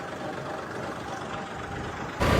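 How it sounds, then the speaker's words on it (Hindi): Two tractor engines running at once, a steady broadband diesel rumble held throughout before a sudden louder surge near the end, with no talk. "लो भाई दोनों ट्रैक्टर कर दिए स्टार्ट, और अब करेंगे रेस एक बार।"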